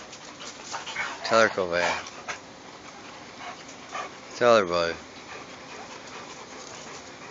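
A dog in a front yard whimpering and whining in two short high-pitched bursts, with a person speaking in between over faint outdoor background noise.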